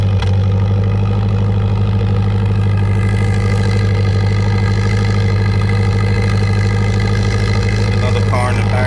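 A 1977 Triumph TR7 engine idles steadily on a cold December day, a loud, even low rumble with a faint clatter running unbroken throughout.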